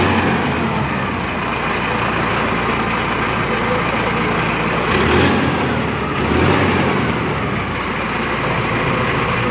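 Tractor engine idling at an agricultural fair (Kisan Mela), a loud, steady diesel rumble running continuously throughout, close by, with only slight swells in level.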